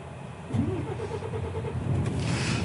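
A Renault T truck engine cranks and fires up during a heavy-vehicle licence check: a short whirring crank, then the diesel catches and settles into a rumbling idle, close and moderately loud.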